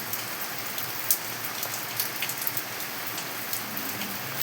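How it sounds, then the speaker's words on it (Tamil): Heavy rain pouring onto banana plants, a dense continuous patter with occasional sharper drops, steady and close with no voices. "என்ன ஒரு மழை!"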